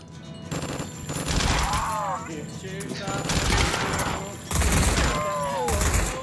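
Automatic weapon fire rattles in a virtual reality zombie game. Three sustained bursts of rapid shots hammer close and loud, separated by short pauses, and voices are heard around them.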